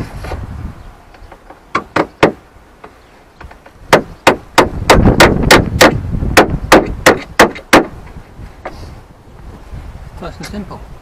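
Nails are hammered into weatherboard cladding on a brick outbuilding: scattered sharp blows, then a fast, loud run of repeated strikes that tapers off, with faint wind noise between them.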